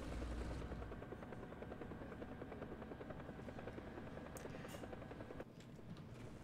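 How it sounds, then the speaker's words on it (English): Helicopter flying in the War Thunder video game, a steady close rotor drone with rapid blade chop running throughout, no speech over it. "Maybe I could at least get that damn helicopter."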